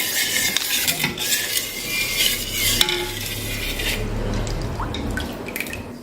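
A spoon stirs kewra sharbat in a glass vessel, giving steady clinking and swirling with a few sharper taps of metal against the side, close and fairly loud, with no voices.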